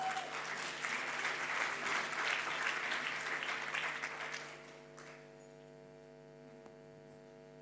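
Audience at a comedy talk applauding a volunteer, a few seconds of crowd clapping over a steady electrical hum that fades out and leaves only the hum.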